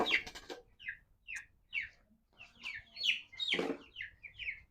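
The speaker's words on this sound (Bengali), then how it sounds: "মুরগিটা লাফালাফি করছে" Twelve-day-old poultry-farm chickens cluck and squawk in short bursts as they jump about, several calls scattered across the moment, with some scuffling flaps between them, fairly close by.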